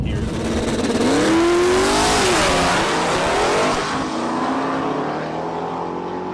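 A drag race car makes a wheelie pass at a test session, its engine roaring loud and continuous with a rising, shifting pitch as it launches and pulls away, then stays loud.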